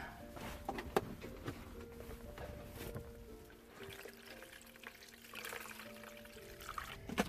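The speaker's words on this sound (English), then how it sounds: "drain and rinse both cans of beans. Alright, and then we're going to rinse them" Canned garbanzo and white beans rinsed in a semi truck kitchen: faint running water trickles and splashes steadily, with a few small knocks and drips.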